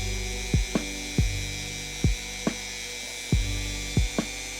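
A Dremel rotary tool polishes brass Steam Deck buttons, giving a steady high whine over a low hum, with about eight sharp, falling-pitch bursts as the tool touches and releases the metal.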